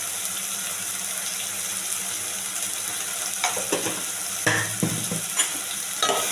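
Pomfret fish curry masala is stirred in a pan: a soft background sizzle runs throughout, then spatula scrapes and wet sloshing strokes come in irregular bursts during the second half.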